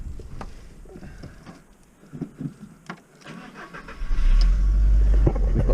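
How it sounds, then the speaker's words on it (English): An old, cheap VW Beetle, parked with its check engine and airbag lights on, cranks briefly, then catches and settles into a loud, steady idle close by. "when we put the ignition on and we fire it up"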